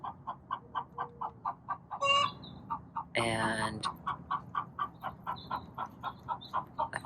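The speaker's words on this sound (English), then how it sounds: "she's a chicken" An injured backyard hen clucks steadily in a fast, even rhythm, close and clear, with a louder squawk partway through and a brief spoken word.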